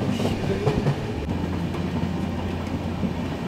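The 15644 Kamakhya–Puri Express runs through the Jaldapara forest stretch of the Dooars in rain. A constant, close, heavy rumble of wheels on rails comes with faint rhythmic clatter and no voices.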